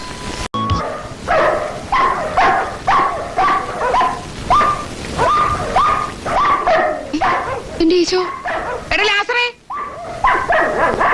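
Several dogs bark in bursts, yipping and whimpering throughout, loud and close, while a person speaks over the pack.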